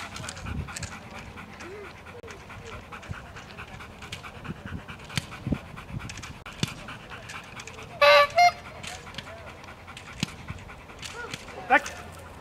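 A dog pants rhythmically and close during a dog training exercise at a competition, quick breaths running under people talking, with a couple of short louder bursts near the middle.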